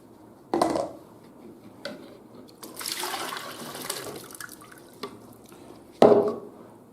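Dirty water is emptied from a container, giving a couple of sharp splashes with pouring and trickling in between, close and moderately loud.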